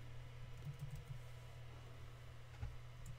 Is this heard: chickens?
no